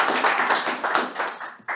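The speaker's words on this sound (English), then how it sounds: "Natasha, please give me a round of applause and welcome Natasha." An audience at a check presentation applauds, a dense burst of clapping from many hands that fades slightly before a final clap.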